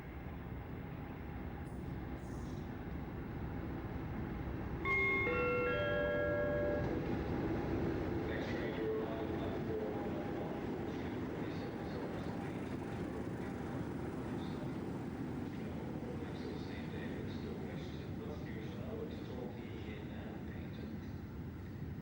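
A Class 50 diesel locomotive hauls two HST power cars coupled back to back, its broad engine rumble and rail noise running steadily throughout, with brief tonal horn-like notes near the start.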